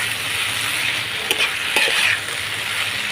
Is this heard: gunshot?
no